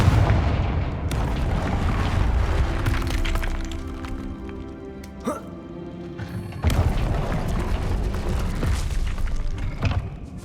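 Booming fire-blast spell detonations in the Hogwarts Legacy video game, layered over dense rumbling battle sound, with a sharp crack midway and a heavier burst soon after.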